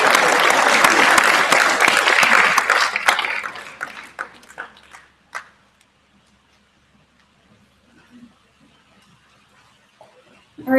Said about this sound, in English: We guys all clap for these 5.